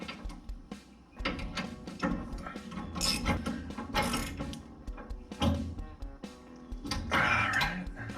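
A ratchet wrench tightens 3/4 inch bolts on the steering linkage of a Mopar Cuda, giving repeated quick metallic clicking bursts separated by short pauses, close and clear; no speech.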